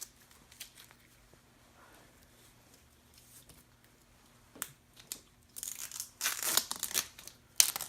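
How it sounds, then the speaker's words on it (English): Tape peeled off the CV joint of a 1974 VW Baja, quiet crinkling at first, then louder bursts of tearing and crackling near the end, close up. "Now I'm going to take the tape off of here."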